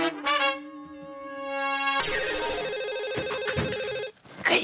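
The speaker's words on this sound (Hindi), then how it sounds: "देख जा रही घंटी जा रही।" A telephone rings repeatedly through a handset while a call is being placed outside a housing compound, with a steady tonal warble and an electronic ring pattern. No one speaks.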